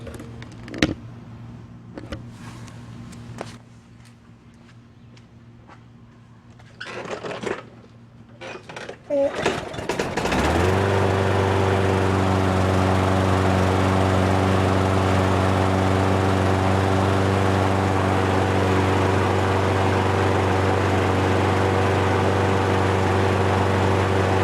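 A lawnmower engine with an auto choke, after a stretch of quiet and a few clatters and tugs on the recoil starter, catches at around ten seconds and settles into a steady, loud, close drone that runs to the end.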